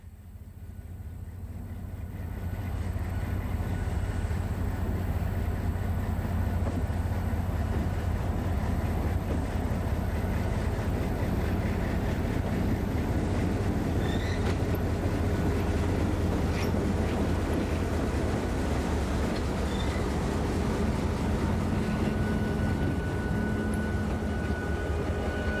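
Former Santa Fe ALCO diesel locomotive hauling a train toward a river terminal west of Henderson, Kentucky, a steady loud low engine drone with rumbling wheels that fades in over the first seconds and holds constant throughout.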